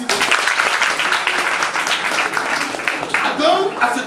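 Dense applause from an audience at a school awareness campaign event, steady and fairly loud across the whole moment, with voices mixed into the clapping.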